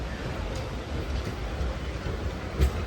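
A Coimbatore–Shoranur MEMU passenger train running by day in Kerala, heard as a steady low rumble of wheels and car body with faint rhythmic clicks and one brief louder knock near the end.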